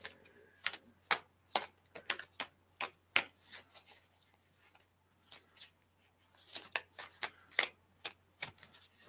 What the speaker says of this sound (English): Just have a shuffle.